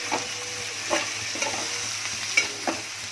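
Chillies and spices sizzle gently in a hot pan as a spoon scrapes and stirs every second or so, close and fairly quiet over a low steady hum.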